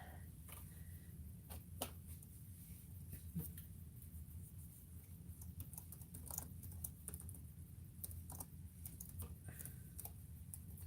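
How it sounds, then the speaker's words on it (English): Faint, scattered keystrokes on a computer keyboard tap away irregularly over a steady low hum, quiet and somewhat distant. "All right, let me type this in."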